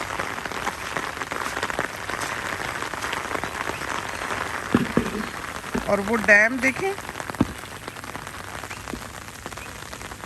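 Steady rain patters across a yard with standing water and a filled pond, soft and continuous, while a voice speaks briefly over it midway.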